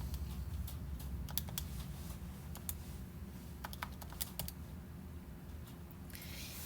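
Keys clatter on a computer keyboard in a quiet room, scattered bursts of taps at varying pace over a low steady hum, with no one speaking.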